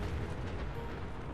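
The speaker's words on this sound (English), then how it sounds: "There'll be a big, huge explosion here in a second." A big in-game explosion in Fallout 76, heard as a dense, sustained low rumble with crackling bursts that stays loud and steady throughout, with no talk over it.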